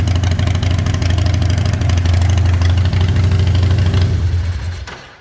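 A handmade chopper motorcycle engine idles steadily with a low, even rumble, loud and near, then cuts off abruptly at the kill switch, with smoky steam coming off the engine.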